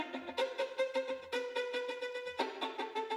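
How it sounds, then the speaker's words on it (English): A short melody on a virtual string instrument in notation software, played ricochet: each note is a quick bouncing cluster of bow strokes, with clear gaps between the notes. It is close and fairly soft, with no talk. "And right now I'm getting all ricochet."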